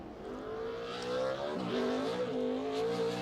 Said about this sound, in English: The 9th car to roll on the track in qualifying, Michael McDowell.